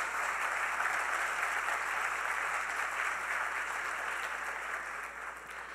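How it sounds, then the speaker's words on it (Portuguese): Audience at a liberty and democracy forum applauds its panelists with steady, dense clapping that holds across the room and fades slightly near the end, with no talk over it. "Por favor, uma salva de palmas para os nossos painelistas."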